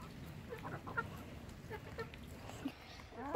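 Chickens cluck softly in short, scattered bursts nearby, with a quiet background and a louder squawk at the very end.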